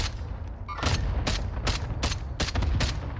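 Call of Duty gunfire in a multiplayer match, rapid bursts of shots cracking in quick succession, loud and close, with no talk over them.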